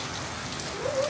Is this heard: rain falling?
yes